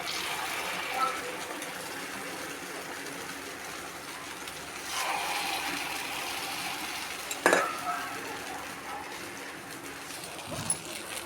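Paniyaram batter with grated carrot cooks in a lightly oiled non-stick pan, giving a soft steady sizzle with a few sharp clicks and knocks of utensils; no one talks.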